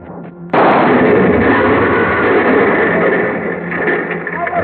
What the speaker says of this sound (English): The car went up in a blast of powder and gasoline